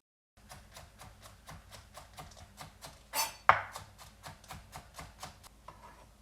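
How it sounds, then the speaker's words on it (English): A knife chops green onion crosswise into thin slices on a cutting board, a quick steady rhythm of soft close taps, around a dozen and a half strokes, with a brief rustle partway through. "let's cut our green onion. And all we're doing here is chopping it crosswise into thin slices."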